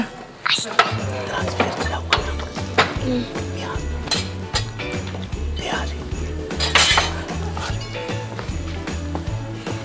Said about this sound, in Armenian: Ես բերեմ տախտակն ու դանակը։